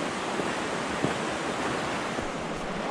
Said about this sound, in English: We are at the first water crossing on the winter route, and we're gonna just wade through.